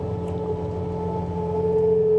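Bobcat T66 track loader with a snowblower attachment, its engine droning steadily and loudly up close with a constant tonal hum and no voices.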